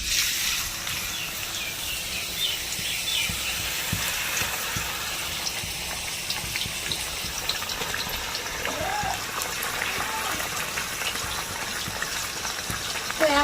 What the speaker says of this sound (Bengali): তো একইভাবে প্রত্যেকটা আলুর চিপস ভালোভাবে ভেজে নেব।